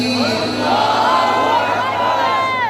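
A crowd at a naat gathering answers the Nara-e-Takbir call with a loud, unified shout of Allahu Akbar, many voices blending in one sustained chant.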